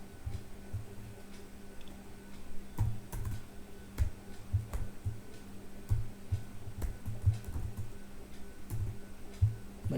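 Someone types on a malfunctioning computer keyboard, with irregular clusters of soft, close keystrokes and occasional sharper clicks over a faint background hum.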